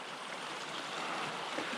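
Stream water flowing steadily at Tibbets Falls, a small waterfall with water bubbling through ice; a soft, even, continuous rush without a break, fairly faint and close.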